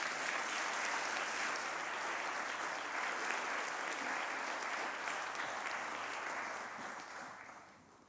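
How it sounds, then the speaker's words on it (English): Loud, dense applause from a seated audience at the FameLab East of England Final science-talk competition, sustained evenly for several seconds before tapering off near the end. "Round of applause for David."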